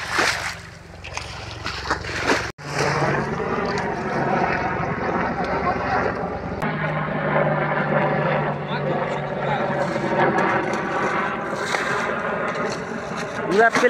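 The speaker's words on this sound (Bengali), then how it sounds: "পুরা প্লেনে আসতেছে আমাদের মাছ মারা দেখার জন্য।" An airplane passes overhead above a waterside spot where people are out fishing. Its engine makes a steady, sustained drone throughout, with voices talking over it.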